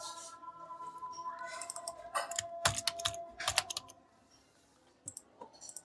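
Fingers type code on a computer keyboard in rapid, clattering bursts of keystrokes, then a pause and a few final isolated clicks, close and clear with no talking.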